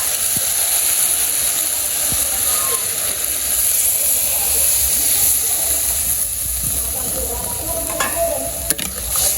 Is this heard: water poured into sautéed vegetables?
yes